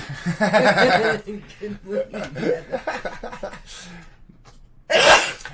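A sharp, loud sneeze bursts out near the end, following stretches of chuckling and breathy sounds.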